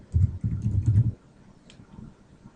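Quick keystrokes on a computer keyboard typing a short entry into a software form field, a close, brisk burst of clicks lasting about a second before going quiet.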